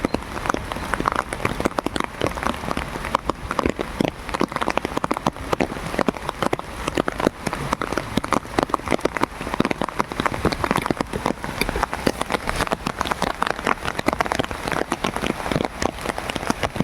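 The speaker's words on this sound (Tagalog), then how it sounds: "sobrang lakas ng ulan" Heavy rain pours down in a dense, continuous hiss, drops drumming hard on nearby surfaces, steady and loud throughout with no voices.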